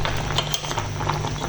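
Pumpkin jam boils in a pot, a dense bed of soft bubbling and popping with scattered sharper blips, steady and close over a low background hum, with no talking.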